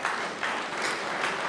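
An audience at a plenary talk on ecological planetary boundaries breaks into dense, sustained applause, steady clapping from many people at moderate distance.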